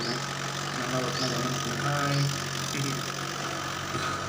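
A 575 DI tractor engine runs steadily at a low, even throb with a faint knocking rattle, heard close and moderately loud throughout.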